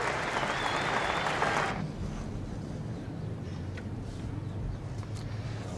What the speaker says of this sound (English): Just listen to the applause from this crowd for Jeff Thomson